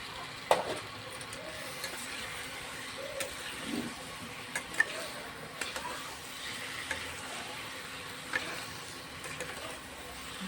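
Potatoes frying in a pan for a katla fish curry give off a soft, steady sizzle, dotted with faint clicks and taps of stirring, with no voices over it.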